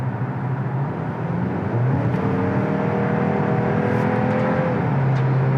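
A 2022 Audi Q3 with an 8-speed Tiptronic automatic accelerates hard, its engine drone rising in pitch, dropping at a gear change and climbing again, heard from inside the cabin as a steady loud hum with road noise and no talking.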